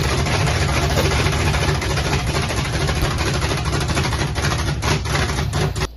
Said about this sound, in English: this is actually the first time that James will start the motor up